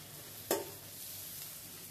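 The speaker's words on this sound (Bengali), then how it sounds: "চিংড়ি আমি প্রথমে লাল লাল করে ভেজে নিতে হবে" Shrimp hit hot oil in a home kitchen pan with a single sharp sizzling burst, followed by a faint, steady frying hiss and light stirring.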